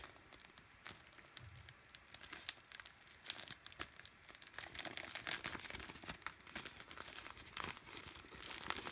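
A sewn vinyl pouch is turned inside out by hand, giving continuous sticky crinkling and crackling as the plastic peels off itself, fairly close and steady, with no talking.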